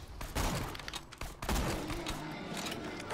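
Saber turret in Borderlands 2 unleashing sustained automatic gunfire, a dense rattling fusillade with heavy thumps that fills the whole short stretch at close range.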